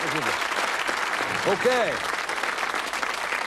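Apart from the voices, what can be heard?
studio audience applause on a game show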